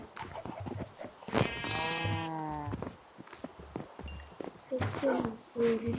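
A sheep in the Minecraft video game gives a clear wavering bleat, set among clip-clop footsteps and other game sounds while a person talks.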